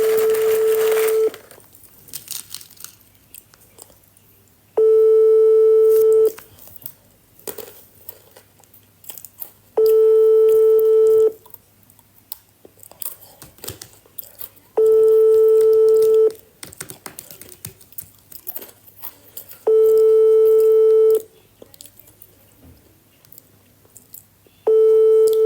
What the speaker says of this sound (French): Et Amina, pourquoi tu décroches pas?